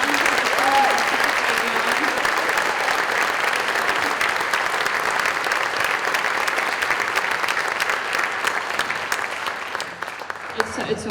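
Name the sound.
applause for the kids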